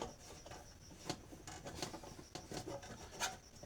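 Nuts are unscrewed from the back of a rice cooker being serviced for a faulty switch. Faint, close scraping and rasping turns come in short, uneven bursts.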